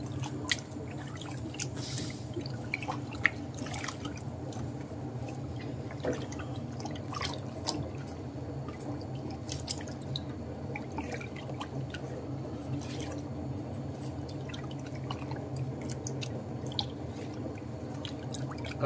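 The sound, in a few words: water draining from soft-serve ice cream machine during cleaning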